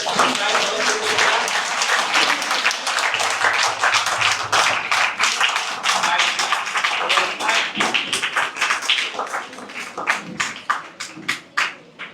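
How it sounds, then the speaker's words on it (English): Audience clapping at a school inter-house quiz trophy presentation, a long dense run of applause that thins into scattered separate claps toward the end, with voices murmuring underneath. "Keep clapping, everyone."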